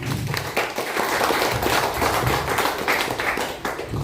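An audience claps at a community gathering, a dense, steady burst of hand claps that fills the room at close range and carries on without a break, with no voices over it.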